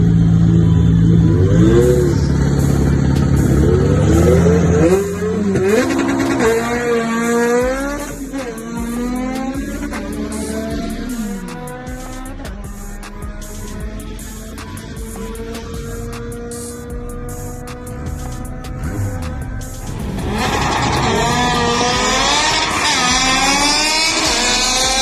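A turbocharged first-generation front-wheel-drive Eagle Talon runs on a race track, its engine revving hard through rising and falling pitches as it accelerates and shifts, loud and close, with turbo whine over the exhaust drone.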